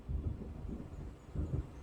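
Low, distant rumbles of thunder from an approaching storm over the water in Alan Wake, two soft rolling swells under a quiet background, with no voices.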